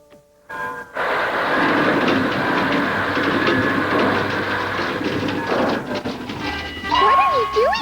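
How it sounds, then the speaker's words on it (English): Cartoon train running, a busy rattling clatter that builds after a short quiet start and rolls on steadily, ending with a rising whistle-like tone. "My train is part of the dream."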